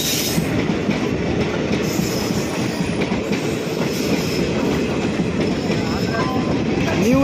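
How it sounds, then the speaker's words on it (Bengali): A local train heading from New Jalpaiguri toward Digha rumbles past on an adjacent track at a station, a loud, steady roar of wheels and carriages with clickety-clack throughout. "ওই যে দূরে দেখতে পাচ্ছ একটি ট্রেন আসছে, ওই ট্রেনটি 2 নম্বর ট্র্যাক দিয়ে যখন চলে যাবে"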